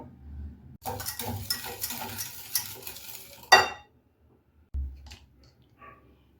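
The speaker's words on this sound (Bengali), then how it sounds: "এবার 50 গ্রাম বাটার, মেল্টেড বাটার অ্যাড করব আর খুব ভালো করে মিশিয়ে নেব।" Melted butter being stirred into eggless apple cake batter in a bowl, a busy scraping and clinking spoon sound for about three seconds, ending in a sharp knock, then mostly quiet with a brief thump.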